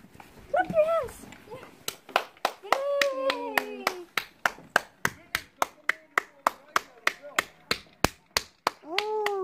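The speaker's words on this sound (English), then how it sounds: "Clap your hands! Clap your hands!" Steady rhythmic hand clapping in applause, about two dozen sharp claps, with people singing and cheering over it during a UK doorstep tribute to NHS frontline workers.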